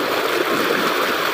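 Strong river current rushing and gurgling steadily close by, a dense continuous wash of water with no voices.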